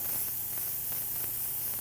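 Airbrush spraying candy red paint in a lopsided half-fan pattern, a steady close hiss of air and atomized paint that stays even and unbroken throughout.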